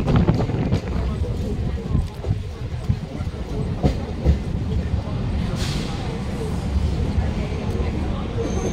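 A Budge Budge–Sealdah local train runs on the rails near Majerhat in Kolkata, giving a loud steady rumble with rhythmic wheel clatter from inside the carriage, while a person talks over it.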